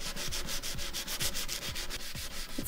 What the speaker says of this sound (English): now I can start sanding. I'm gonna use a 180 grit